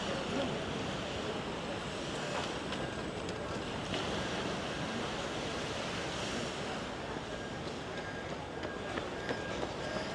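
Waves washing onto the beach at Salou on a morning stroll, a steady broadband wash with wind noise buffeting the microphone throughout, no talking.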